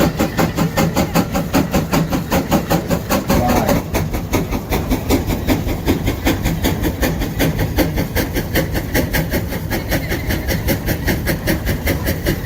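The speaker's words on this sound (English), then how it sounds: "This 170 horsepower steam tractor" A 1905 replica 170-horsepower steam tractor with a 14-inch cylinder runs steadily and loudly nearby, its rapid, even chuffing beat repeating without pause and no voices over it.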